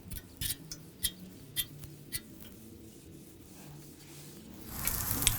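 Oil being spread and scraped across the hot surface of a HALO Elite griddle during seasoning, heard as soft rubbing strokes with a few sharp clicks of the utensil, then rising sizzle at the end.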